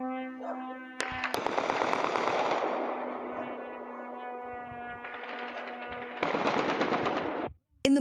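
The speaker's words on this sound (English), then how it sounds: "Practically every hour, you can hear the work of mobile fire teams and the sounds of explosions from interceptions and impacts." Sustained automatic gunfire rattles from mobile fire teams at a war-zone city targeted by drones, long bursts with short gaps, loud and steady, ending in a sharp break and a final crack.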